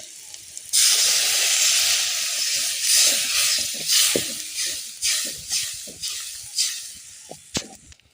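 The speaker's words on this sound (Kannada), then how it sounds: "ನೋಡ್ರಿ ಇವಾಗ ಸ್ವಲ್ಪ ನೀರು ಹಾಕೋಬೇಕು" Water poured into a hot frying pan with egg curry masala paste bursts into loud, sustained steam hiss, then settles into pulsing sizzles as the mixture is stirred, ending with a sharp clink.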